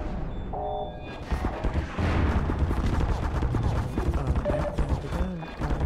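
Turrets fire in Half-Life 2, a dense, continuous clatter of gunshots and impacts at close range, with bursts and crashes layered over steady background game noise.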